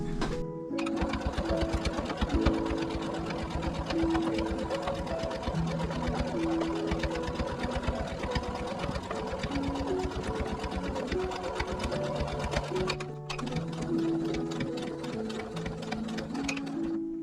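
Sewing machine stitching steadily around the edge of a quilted table centre, a close, continuous rapid needle chatter that pauses briefly once before resuming at the same even pace.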